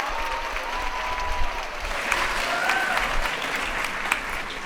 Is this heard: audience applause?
yes